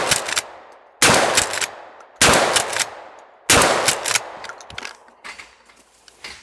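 A Mossberg 500 shotgun fires four loud, sharp blasts about a second apart, each followed by a ringing decay, then lighter clicks and handling noises from the pump action.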